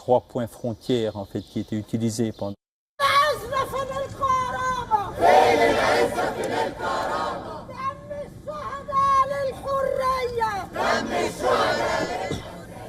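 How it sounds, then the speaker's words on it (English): A crowd of Egyptians protests in Cairo, waving banners and chanting slogans: loud, rhythmic massed voices shouting in unison, with a brief break and then sustained roaring chants. "crowds of Egyptians gathered in Cairo to protest against the displacement of Palestinians outside of Gaza, waving banners and chanting slogans"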